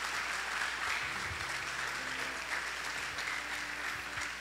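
Steady applause from a church congregation at a Brazilian conference service, a dense wash of clapping filling the whole stretch with a few faint voices low underneath.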